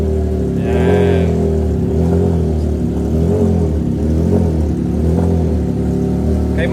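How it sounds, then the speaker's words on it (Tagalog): A motorcycle exhaust idles and revs during a live exhaust comparison of a Honda CB650R, Triumph Trident 660 and Kawasaki, a loud, close, deep engine rumble with a rising rev and steady drone throughout. "you guys can hear the sound of your exhaust system"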